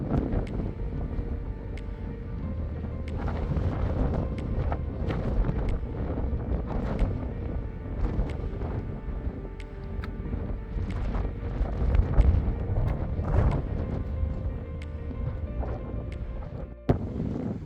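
Strong wind buffeting a microphone on a coastal hiking path in Brittany, a loud continuous rumbling roar with gusty surges and brief bumps, no speech.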